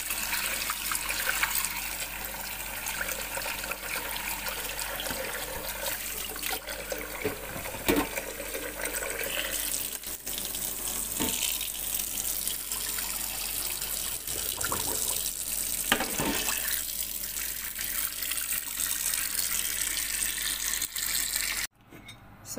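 Lentils and rice rinsed under a running kitchen tap, a steady close splash and trickle of water lasting about twenty seconds with no talk, cutting off abruptly at the end.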